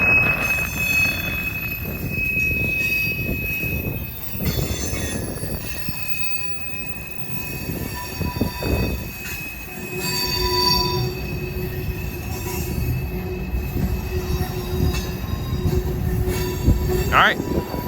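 A CSX freight train rolls past with steel wheels squealing in long high-pitched whines over a steady rumble of railcars, loud and close, with occasional voices nearby.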